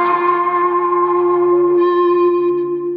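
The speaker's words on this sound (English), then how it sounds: "It's really putting us into a cool location by using the spring reverb." Sustained tonal music washed in spring reverb and echo, its held notes ringing and smearing into a dense, shimmering tail, loud and steady throughout with no voices.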